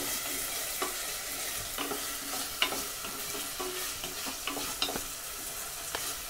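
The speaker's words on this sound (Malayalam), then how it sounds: "ഇതിലേക്ക് നമ്മൾ അരിഞ്ഞു വെച്ച തക്കാളി കൂടെ ചേർത്ത് കൊടുത്ത് നല്ലപോലെ വഴറ്റിയെടുക്കുക." Chopped tomatoes and onions sautéing in a pan for a chicken and vegetable soup, with a steady sizzle and repeated scrape-and-stir knocks of a spoon throughout, close and without talk.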